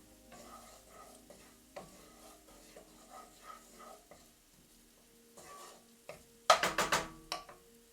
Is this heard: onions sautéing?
yes